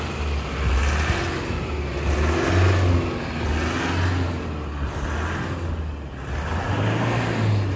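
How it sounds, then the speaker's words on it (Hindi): A Mahindra Bolero Camper 4x4 pickup revs hard while being rocked back and forth out of deep snow, its engine droning steadily and rising and falling in short surges, close and loud throughout with no talk. "बस ही ऐसी आगे पीछे करके ना निकालनी पड़ती है गाड़ी, फिर जाके निकलती है गाड़ी"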